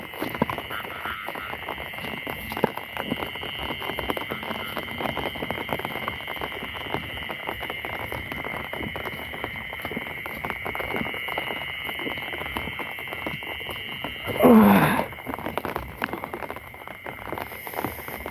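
Steady rain falls outdoors during a flood-season fishing trip, a constant close patter with no talk; a brief louder rustle breaks through near the end.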